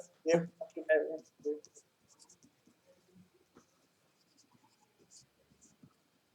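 Soft scratching and tapping of writing during a mathematics lecture, heard as faint, irregular strokes after a short burst of someone speaking.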